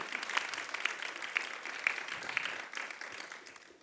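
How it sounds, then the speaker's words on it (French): Scattered applause from a conference audience at a colloquium on the energy transition in mining basins, soft and somewhat distant, with a few sharper claps standing out before it gradually thins. "On peut vous applaudir."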